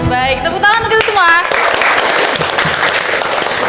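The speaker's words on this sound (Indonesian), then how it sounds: "tepuk tangan untuk kita semua" A few people applaud together at the close of a scholarship podcast recording; a speaker's voice leads into a burst of close, dense clapping that carries on evenly to the end.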